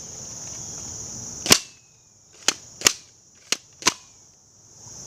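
A Nerf Modulus Tri-Strike blaster firing foam darts: five sharp snapping shots at uneven intervals, close and loud over a steady high-pitched background hiss.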